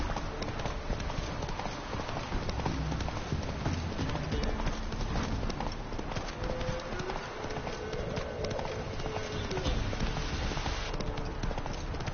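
Horse hooves galloping in The Witcher 3, a fast, continuous clip-clop rhythm that stays loud and even throughout.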